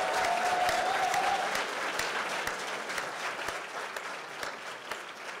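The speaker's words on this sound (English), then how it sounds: "Let's give her one more round of applause." An audience claps at a symposium on Puerto Rico and Hurricane Maria, a dense, sustained round of applause that slowly thins out over a few seconds.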